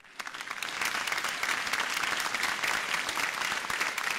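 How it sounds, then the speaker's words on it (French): An audience at a large diocesan assembly for a bishop's sending-forth mission breaks into applause, a dense, sustained crowd clapping that rises quickly and stays strong throughout. "vous avez raison d'applaudir"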